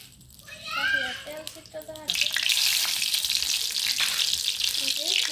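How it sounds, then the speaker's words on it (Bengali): Dried red chilies fry in mustard oil for a tempering, a loud sustained sizzle that swells in after a voice and carries on steadily to the end. "আমি আজকে সরিষার তেল দিয়ে বাগার দিব।"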